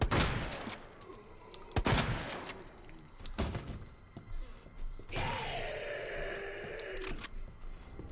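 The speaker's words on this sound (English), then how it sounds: "I just shot you twice in the leg." Two sharp gunshots from Resident Evil 2 Remake fired at an enemy's leg, loud and close together near the start, followed by a groaning bellow and other game sounds.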